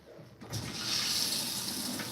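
Water runs steadily from a salon tap for a haircut wash, starting abruptly after a quiet moment and continuing as a close, even hiss.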